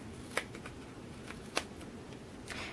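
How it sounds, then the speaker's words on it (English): Snips trim paper for card making, several soft, quiet cuts spaced out at an irregular pace with light rustling between them. "you just want to grab your snips and start trimming"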